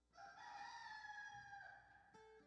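A rooster crows once, a long, loud, drawn-out cock-a-doodle-doo heard up close and clear, with a brief clipped note at the end and no talking.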